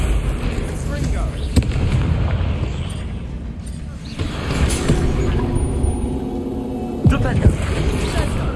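Booming magical blasts and rumbling impacts from a Confringo blasting spell in Hogwarts Legacy, loud and dense over a constant roar of game noise, with sharp hits near the start and end. Voices are heard speaking over the action.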